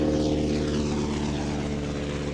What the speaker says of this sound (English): Sopwith triplane gets airborne underneath the Bristol Fighter